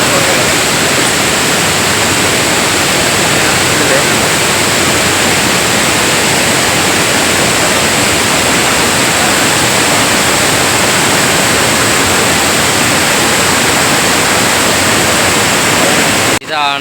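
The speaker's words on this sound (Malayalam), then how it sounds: "ഇതാണ് നമ്മുടെ കിടമാനൂരുള്ള മീൻമുട്ടി വെള്ളച്ചാട്ടം" Meenmutty waterfall at Kidamanoor pours with a loud, constant broadband roar of falling water, close and unbroken for the whole stretch before cutting off abruptly at the end.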